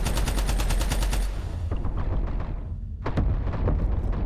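Rapid automatic gunfire and heavy shots in Abiotic Factor as order members battle gatekeepers, loud and dense bursts rattling nearby, dropping into scattered reports, then a fresh volley.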